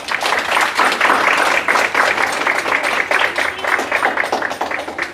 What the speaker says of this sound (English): Now, I want us to all give him a round of applause, please.